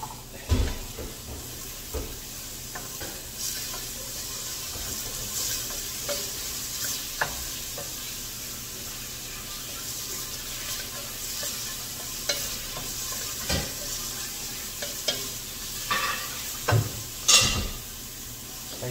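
Onion sizzles steadily in a pan while a sauce is being made, a close, continuous frying hiss broken by repeated stirring scrapes and occasional clinks of utensil against pan.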